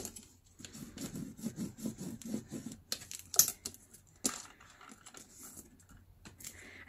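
Hands press down on a folded newspaper multipocket glued with double-sided tape, giving a run of soft rubbing, crinkling paper strokes, close and fairly quiet, with a few sharper crisp rustles.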